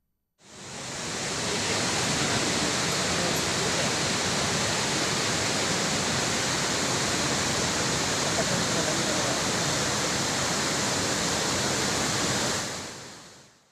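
Flash-flood water and heavy rain in the hills roar as a loud, constant broadband rush that fades in and holds steady for over ten seconds before cutting off.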